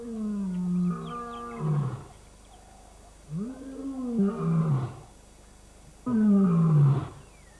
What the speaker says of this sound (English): scent marking is reinforced by roaring, which can be heard for miles